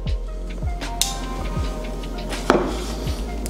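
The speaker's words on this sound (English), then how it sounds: "Kind of just chopping them up so that way they get in there." A knife chops tomatoes and onion on a board for a Mexican breakfast machaca burrito, giving a series of sharp, close taps at a steady rhythm, roughly every half second, over a low constant hum.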